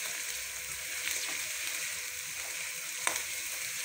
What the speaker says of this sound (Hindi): अब हम लोग इसको इसके साथ फ्राई करना है तकरीबन 5 मिनट